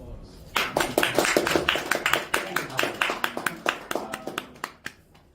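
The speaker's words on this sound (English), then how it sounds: "That deserves a round of applause." Audience applause at an anime convention panel: a burst of close, loud clapping that starts abruptly, holds briefly, then thins into scattered individual claps before fading out, with a little crowd voice mixed in.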